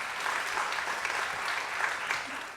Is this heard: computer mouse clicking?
no